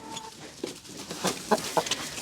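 Hens clucking close by in short, irregular bursts, a few sharp calls over a quiet background.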